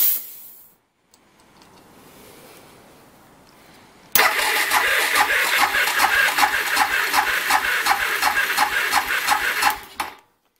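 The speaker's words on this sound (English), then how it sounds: "I counted how many cranks it took to get it to full compression" Suzuki DR650SE motorcycle engine cranked over by the starter during a compression test, a loud, close rhythmic churning of about ten strokes that starts abruptly after a quiet lead-in and cuts off.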